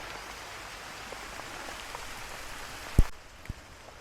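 Steady rain patters on surfaces outdoors, a soft even hiss at low level, with one sharp close knock near the middle and a smaller tap just after.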